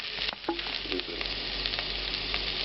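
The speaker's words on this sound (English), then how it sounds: "Now I'm going to add those onions to the pan." Garlic and onions fry in a pan with a steady close sizzle and crackle, punctuated by a few clinks and stirring scrapes, with no voices.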